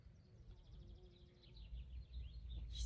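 Outdoors in a calm, quiet spot, birds sing faintly in quick repeated chirping trills over a soft low background rumble.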